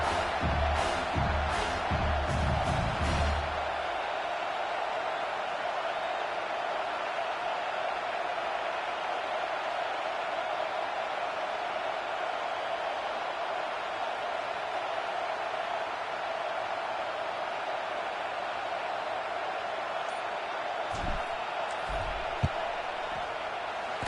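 Football stadium crowd during a field goal attempt, a loud, steady broadband roar sustained for the whole stretch, with a few sharp thumps and bursts near the start and again near the end.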